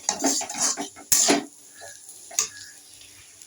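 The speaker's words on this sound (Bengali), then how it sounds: "ভালো করে মশলাটা নাড়াচাড়া করবো করে কষিয়ে নেব সবজিগুলোকে" Vegetables with spices, including black pepper, are stirred and fried in a pan for paneer, with a burst of close scraping and sizzling, a loud clatter of the utensil against the pan, then quieter sizzle and a single later knock.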